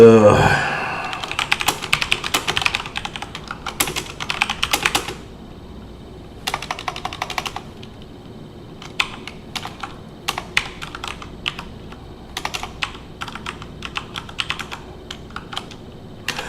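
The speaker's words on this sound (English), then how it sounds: "You think by now I'd be better at typing" Clattering bursts of typing on a computer keyboard, fast runs of keystrokes broken by short pauses, close and clear in a quiet room, with no talk over them.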